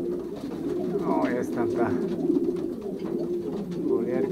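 Young pigeons coo steadily in a loft during pairing season, a continuous low murmur close by, while someone speaks briefly over it.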